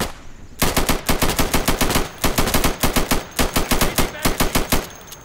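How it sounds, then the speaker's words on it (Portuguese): Machine gun fire in the video game Insurgency, set on the Buhriz co-op map: long loud sustained automatic bursts with rapid regular shots, broken by brief pauses, alone without talk. "Eu tô atirando aqui na metralhadora"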